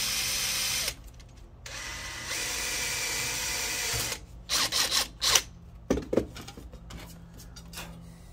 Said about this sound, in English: it's just a matter of drilling these last two holes